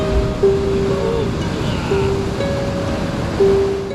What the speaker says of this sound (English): It is hydraulic action occurring against what is geographically called the wave cut platform.